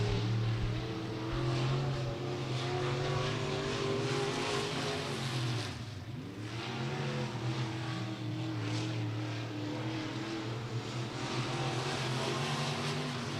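A race car runs a qualifying lap at Beckley Motor Speedway, its engine droning steadily at moderate distance with a brief dip and rise in pitch as it rounds a turn, continuous throughout.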